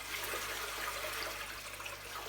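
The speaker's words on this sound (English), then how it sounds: "When you pour the water in" Water pours into a home tropical fish tank over a cupped hand, making a steady, close rushing splash with no pauses and no voices.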